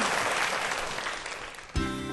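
An audience claps for a professor after a lecture, a dense even patter of many hands at moderate distance, ending abruptly as a voice begins.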